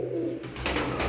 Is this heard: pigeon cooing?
yes